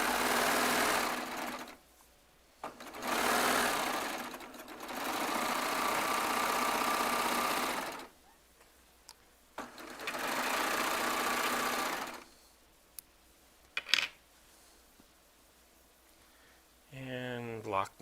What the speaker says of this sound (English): I just let it go under the serger needles.